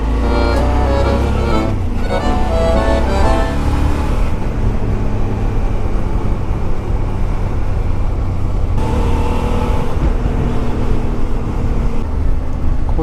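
A motorcycle rides toward a hilltop castle in Cetinje, Montenegro, its engine drone steady and loud beside the rider, with wind rush and one change in tone partway through.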